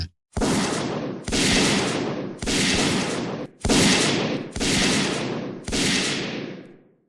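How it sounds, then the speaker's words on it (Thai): Six loud, sustained bursts of rapid gunfire in steady succession, each roaring for about a second with short gaps between, no voices. "เสียงปืนยิงกันเหมือนประทัดแตก"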